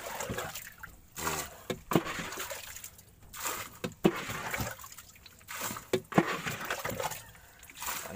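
Water is scooped and bailed out of a small Meranti wooden speedboat in repeated sloshing pours at an uneven rhythm, with bumps and knocks against the hull, fairly close and moderately loud.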